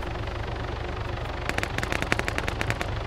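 Bursts of rapid automatic gunfire from an ArmA 3 firefight, starting partway in and rattling on in quick clustered shots at fairly close range.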